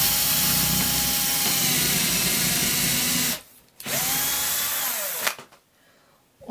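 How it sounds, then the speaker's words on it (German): Power drill boring a straight hole into wood for a fireplace-style candle, a loud steady whine that cuts out briefly, resumes, then stops near the end. "Da brauchen wir einen Bohrer. Und dann bohren wir uns ein gerades Loch."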